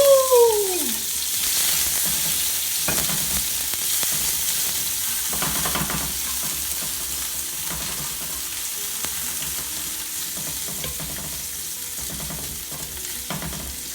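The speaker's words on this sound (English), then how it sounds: "So I'm gonna let that saute down just a little bit" Vegetables for Jamaican curry bammy sauteing in a hot pan on medium heat, a steady broadband sizzle running throughout with occasional scraping stirs, close and alone, a brief squeak at the start.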